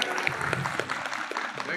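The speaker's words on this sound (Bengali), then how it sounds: "অন্বেষার জন্য একটা হাততালি।" A crowd at a festival cooking competition and quiz in Halisahar claps briefly for a schoolgirl who answered correctly, a short burst of scattered applause mixed with nearby talking voices.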